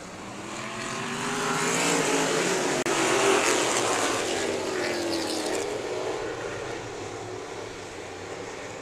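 Outlaw figure-8 race cars roar around a speedway during a heat race, engine noise swelling as the pack passes, peaking midway and easing off, heard from the stands at moderate distance.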